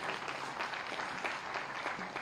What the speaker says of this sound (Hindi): अगर आप सहमत हो तो जोरदार तालियां चाहता हूं।